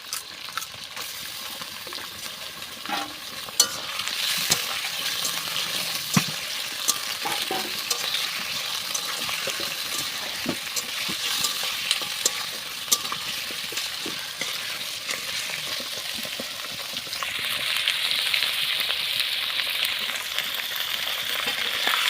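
Meat frying in a pan while home cooking, a steady sizzle with occasional stirring scrapes and clinks, growing louder toward the end.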